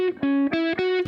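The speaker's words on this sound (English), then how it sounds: "you play loud, you get a bit of distortion there" Electric guitar played hard so the notes break up into overdriven distortion, a few loud sustained notes in quick succession with a gritty, harmonic-rich tone and no talking.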